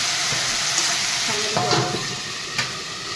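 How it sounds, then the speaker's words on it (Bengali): Spice paste (masala) frying in a pan with a splash of water, a steady bubbling sizzle up close with a few sharp utensil clinks and scrapes, no one speaking. "এই জন্য একটু জল দিয়ে মশলাটা একটু কষিয়ে নেব"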